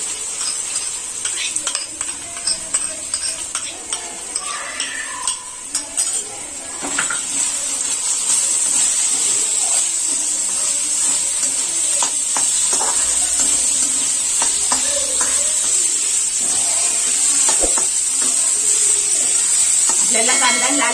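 Onion softening in a hot pan for a cherry tomato sandwich, with a steady sizzle that grows louder and denser after the first few seconds, along with occasional scrapes of a stirring spoon and faint background voices.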